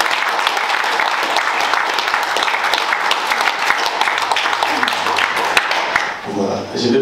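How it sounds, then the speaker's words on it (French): A crowd at the official installation ceremony of a political party committee applauds steadily, a dense wash of clapping that fades out near the end. "Est-ce qu'on peut acclamer maintenant pour nous?"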